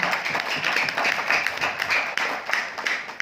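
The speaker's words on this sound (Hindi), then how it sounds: "आप सभी लोगों के लिए एक जोरदार तालियां हो जाए" Steady applause from an event audience in Durgapur, a dense wash of many hands clapping continuously at moderate loudness, with no voices on top.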